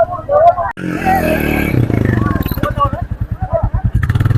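A motorcycle rides off a Brahmaputra river ferry onto sand at the ghat, its engine throbbing in steady rapid pulses up close, with a brief burst of voices at the start.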